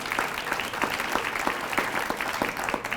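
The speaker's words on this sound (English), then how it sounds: "I also want to offer one final round of applause for our MC this evening" Audience clapping at an evening school district awards ceremony, a steady dense patter of many hands sustained throughout without voices on top.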